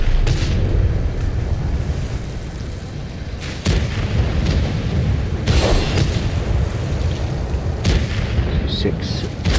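A tank's auto cannon fires in World of Tanks, loud booming bursts that repeat at intervals over a continuous roar of battle, with talk mixed in.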